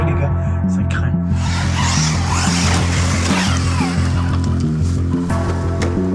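An FTX Grand Apache RC car drives through a forest, its motor buzzing steadily and pulsing in short repeated surges, with rough crunching and scrabbling from the tyres over the ground.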